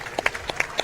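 A parade crowd at a tulip festival claps for passing US Air Force members, with scattered, separate hand claps that sound thin and fairly close, a handful of sharp claps in quick succession.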